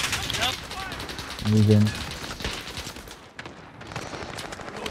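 Gunfire in the Call of Duty Warzone video game, scattered shots and short bursts cracking over the game's noise, with a voice speaking briefly partway through.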